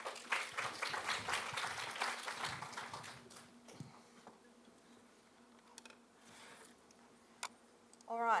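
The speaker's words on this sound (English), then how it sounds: "Please give a big round of applause for Dr." Audience applause for a speaker at a fertility and IVF conference, clapping heard for about three seconds before fading into a quiet room with faint scattered sounds.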